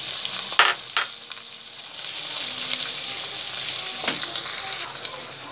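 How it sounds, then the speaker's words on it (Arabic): Green peppers and tomatoes frying in a pan for a seafood feast, a soft continuous sizzle with a few sharp clinks and scrapes as they are turned, fairly quiet overall. "وهنبتدي نقلب نديهم تقلبتين بس يا دوبك كده برضو الطماطم تدبل"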